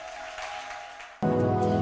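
A church congregation bursts into loud applause and acclamation for God, rising suddenly after a quieter stretch with a sustained tone and continuing strongly to the end.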